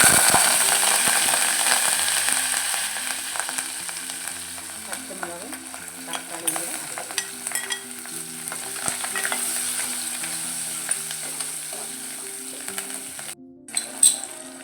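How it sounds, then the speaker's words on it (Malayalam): Fenugreek seeds and curry leaves sizzling in hot oil in a pan, a steady loud frying hiss with scattered scraping and stirring clicks throughout, cutting out briefly near the end before resuming. "അപ്പോൾ ഉലുവ ചൂടായിട്ടുണ്ട് നമുക്കിനി കറിവേപ്പില"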